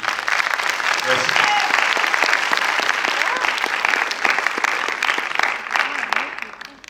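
Audience applauding at the Paris premiere of the film Demain tout commence, dense, loud sustained clapping from a crowd, with voices speaking faintly underneath before it tapers off.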